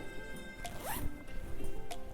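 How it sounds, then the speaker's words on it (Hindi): A vertical feeding zipper on a nursing nightie is pulled in one quick, close zip near the middle, fairly quiet against a soft room background. "इस तरह से इसमें वर्टिकल ज़िप दे रखी है फीडिंग के लिए"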